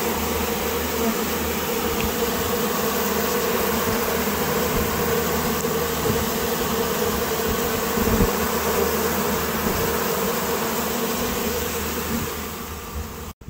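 Dense, continuous buzzing of many honeybees close by in a hive inside a roof, a steady droning hum that holds level for the whole stretch before cutting off abruptly.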